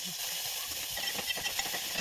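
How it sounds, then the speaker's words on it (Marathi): Hot oil sizzles as cumin, mustard seeds, garlic, curry leaves and coriander hit cooked dal for a tempering, a steady close hiss with faint crackles and pops throughout. "लगेच डाळीला जिरे मोहरी लसूण कढीपत्ता कोथिंबिरीची फोडणी देऊन"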